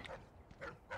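Faint, quick dog barks in the game Dishonored 2, about three short yips in a row, sound thin and distant.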